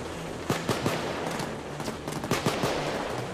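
Gunfire in the co-op heist shooter Payday 2 aimed at a sniper: bursts of sharp shots at an uneven rhythm, with a cluster near the start and another later, over a constant hum of game background.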